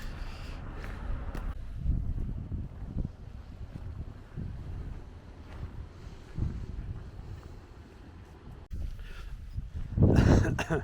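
Wind gusting outdoors, buffeting the microphone in a broad low rumble that rises and falls across the whole stretch and swells to a strong blast near the end.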